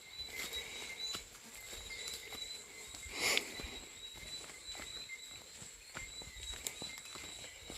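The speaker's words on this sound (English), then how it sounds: "let you hear our footsteps only" Footsteps crunch steadily along a hiking trail on the Mount Hillaby loop, quiet and close, with faint insect chirps in the background and one brief louder scrape.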